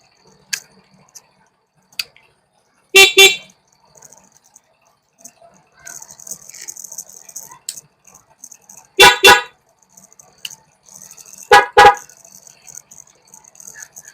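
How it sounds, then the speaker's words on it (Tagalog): A motorcycle horn honks three times in short blasts, each a brief double-pulsed beep, loud and close, separated by quiet gaps with faint mechanical clicks and light background noise. "Busina tayo."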